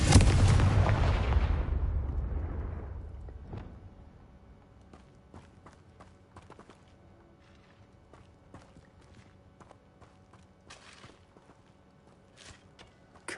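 Blast of the Confringo fire spell in the Hogwarts Legacy video game, a loud booming explosion that decays over about three seconds into quiet ambience scattered with faint clicks and small impacts.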